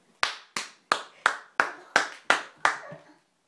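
A child claps hands eight times in a steady, evenly spaced rhythm, each clap sharp and close with a short decay, no voices over them.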